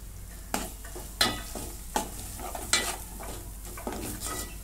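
Homemade onion-garlic masala with turmeric, garam masala and coriander-cumin powder being stirred and sautéed in a pan for a Maharashtrian masala brinjal dish, with repeated scraping stir strokes over a soft, steady frying hiss.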